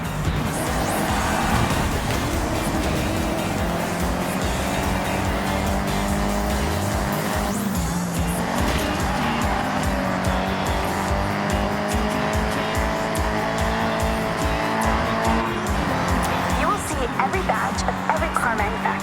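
Nissan cars in a convoy in Forza Horizon 6 on Tokyo city streets, continuous loud engine roar with shifting revs and tire squeals, dense and close throughout with some voices mixed in.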